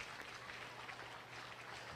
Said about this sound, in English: please give all four of these youngsters a big round of applause out here